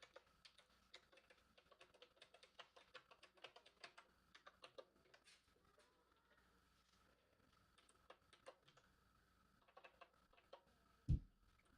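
Computer keyboard typing in irregular bursts of quick, light key clicks, fairly quiet and close, with pauses and a sharper thump near the end.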